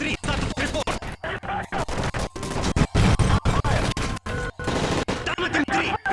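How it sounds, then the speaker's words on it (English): Bursts of rapid gunfire aboard a hijacked plane in Modern Warfare 3, loud and close, with repeated volleys and sharp single shots cutting in over six seconds amid chaotic noise. "That's gunfire! Hijackers are taking the plane!"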